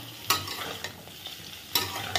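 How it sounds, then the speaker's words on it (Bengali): Pointed gourd (potol) sizzles as it fries in a pan for a potato-and-potol curry, with a steady hiss and several sharp utensil scrapes and clanks from stirring close by. "পটলটা ভেজে নিই।"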